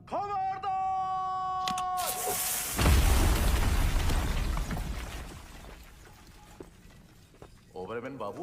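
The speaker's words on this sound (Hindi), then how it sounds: "ब्लास्ट होने वाला है!" A movie blast erupts after tense shouted warnings, a deep loud boom swelling and then rumbling away with crackling debris, preceded by a siren-like warning tone and followed by voices returning.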